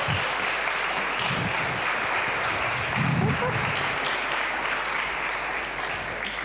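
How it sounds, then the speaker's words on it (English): An audience at a startup incubator demo day claps for the event sponsors, a continuous, moderately distant patter of hands with a few louder thumps, while a voice speaks briefly over it. "Let's give the sponsors a big round of applause and also encouragement for David."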